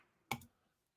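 Prize wheel spun on a comics giveaway stream gives a single brief clatter of clicks, close and fairly loud, then fades to near silence.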